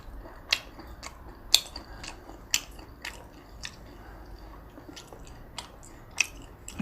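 Crunchy cheese balls being bitten and chewed, sharp crisp crunches about once a second, close and distinct over a quiet background.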